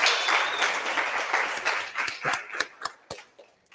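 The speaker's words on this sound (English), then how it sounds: "Let's give them a round of applause." An audience applauds the pitch companies at a startup challenge, dense clapping at first that thins out into scattered, separate claps toward the end.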